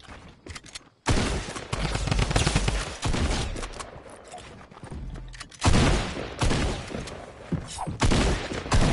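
Rapid bursts of gunfire from a shooting video game crackle loudly in repeated volleys, with brief pauses between bursts and booming impacts.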